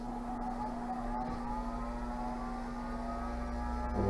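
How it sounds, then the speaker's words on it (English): A buffing wheel polishing a Lebanon cedar ring gives off a steady motor hum and a faint whir, with a few light clicks and a slight rise in level near the end. "And then a little bit of polishing on this, on the wheel"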